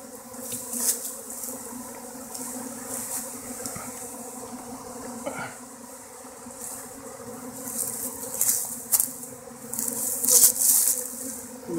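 A swarm of bees buzzes around a flower pot and hive in March: a steady, dense drone with louder swells as individual bees pass close, no voices.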